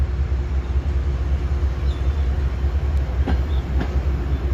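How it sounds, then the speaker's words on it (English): A Metro-North Foliage train pulls into a station, a loud, steady low engine rumble close by with a few brief metallic squeals near the end. "here's the next Foliage train pulling into the station here"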